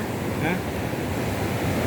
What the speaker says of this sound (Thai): นี่มันต้นสายของน้ำตกในแองกาล่าค่ะ